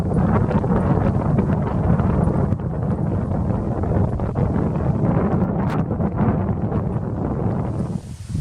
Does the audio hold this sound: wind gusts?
yes